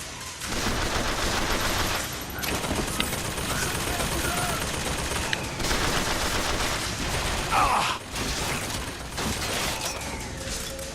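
Automatic turret gunfire in BioShock Infinite, sustained rapid bursts filling the whole stretch with dense, continuous shooting and mechanical clatter, loud and close, with faint voice underneath.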